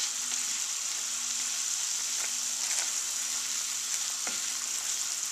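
A roux of oil or lard and flour sizzles and fries steadily in a pot while being stirred, with a constant crackling hiss and a few soft scrapes of the spoon.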